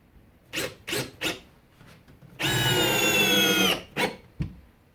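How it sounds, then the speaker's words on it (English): A Makita XFD11 sub-compact cordless drill drives a thicker-shanked 3-inch construction screw in one steady, loud whirring run of about a second and a half, framed by a few short knocks and clicks before and after. "Just a little bit longer, a little bit thicker shank, so just a little bit beefier screw to drive in"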